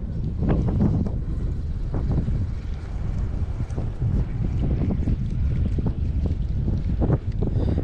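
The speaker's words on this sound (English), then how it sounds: "that wind didn't help" Steady wind buffeting a microphone beside a Kansas lake during a fishing outing, a continuous loud low rumble with irregular gusty thumps and faint lapping water throughout.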